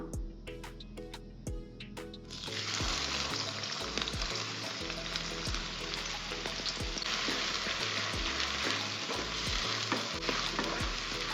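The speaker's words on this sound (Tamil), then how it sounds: "இப்போது எண்ணெய் நல்லா சூடாயிருச்சு நாலு பெரிய வெங்காயம் கட் பண்ணி வச்சுருக்கேன் மீடியம் சைஸில் இந்த வெங்காயத்தை எண்ணெயில் சேர்த்துக்கலாம்" Four large medium-cut onions hit hot peanut oil and sizzle loudly, a steady dense frying hiss broken by stirring clatter against the pan, with no voices.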